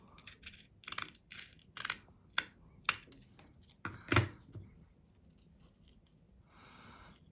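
Scissors snip through material in a series of sharp, irregular cuts at close range, several crisp clicks spaced about half a second apart, then a softer rustle at the end.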